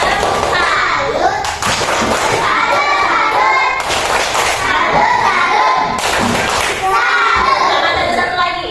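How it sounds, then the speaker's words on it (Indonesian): Schoolchildren in a classroom clap together in several bursts of loud, dense applause, with thumps and children's voices mixed in. "Beri dulu tepuk tangan dulu. Tepuk tangan."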